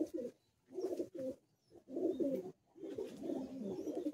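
Andhra pigeons coo nearby in a series of soft, low, throaty phrases separated by short pauses, with no voices.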